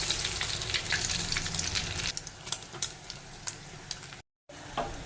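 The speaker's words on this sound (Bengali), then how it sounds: "কড়া করে একটু ভেজে নিয়েছি" An egg-dipped paratha fries crisp in hot oil, giving a dense, close sizzle that eases after two seconds into crackling pops and spatters, with a brief dropout near the end.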